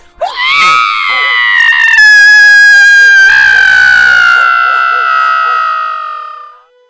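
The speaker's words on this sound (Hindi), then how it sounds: "उस रात को एक विकट चीख सुनाई दी थी।" A long, piercing scream rising sharply and then sustained at high pitch for several seconds before trailing off, loud and close.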